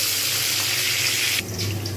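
A tap runs steadily while fried mung dal is rinsed in water. The stream is close and continuous, and its tone shifts abruptly near the end as the flow changes.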